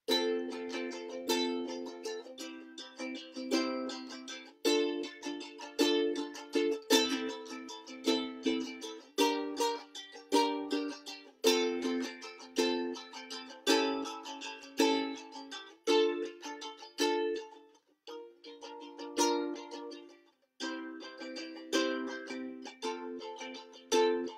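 Steady rhythmic strumming of a ukulele, bright-toned, with regular chord strokes repeating in a lilting pattern, played alone with no voices.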